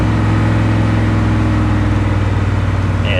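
A 1982 Chevy Camaro with a Crossfire V8 running loud and close, a dense, steady low throb of the engine holding at a raised idle throughout with no other sounds.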